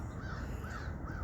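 Crows cawing in a steady overlapping chorus from a huge flock passing overhead, with several birds calling at once over a continuous low rumble of wind and background noise.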